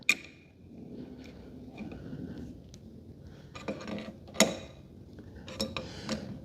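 A hand crank turns a tool on a rusty oil slinger, giving soft mechanical creaks and ticks with a few sharp metallic clicks and knocks at irregular intervals.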